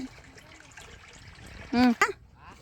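A submersible pump sends water into a tub with a steady, soft rushing flow, and a short voice cuts in near the end.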